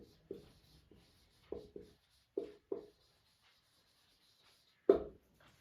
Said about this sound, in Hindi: मैं यहाँ पे लिख देती हूँ।